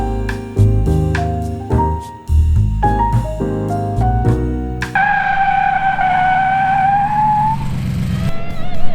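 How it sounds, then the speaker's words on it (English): Ford Ranger pickup with rear brakes locking up under hard braking, a long loud tire skid with rising squeal over the engine's downshifting revs, close and continuous. "the rear brakes locked up real easy"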